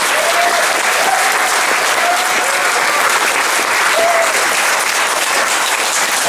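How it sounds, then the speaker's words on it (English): Audience applause fills a guitar clinic, a dense, steady wash of clapping hands that holds at full loudness from start to finish with no voices standing out. "Well, alright, everybody big round of applause for"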